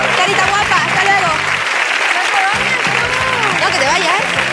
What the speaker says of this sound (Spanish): Un aplauso muy fuerte para Santiago, Julián, Alberto.